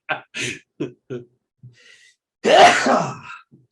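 A few short breathy inhales build up, then a single loud, close sneeze bursts out, followed by quiet.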